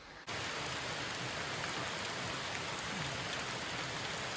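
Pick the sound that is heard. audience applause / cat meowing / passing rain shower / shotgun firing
passing rain shower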